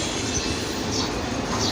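A passing train heard from a nearby rooftop, with a continuous rolling rumble and the rattle of wagons on the rails. The noise stays steady and moderately loud from start to end, with no voices.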